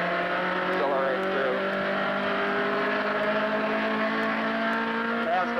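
A Nissan Datsun 1600 510 BRE race car accelerates on track, its engine note climbing steadily in a loud, sustained whine with rising tones.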